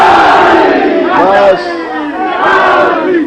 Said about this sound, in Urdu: پوری مجلس کے نعرے لگ گئے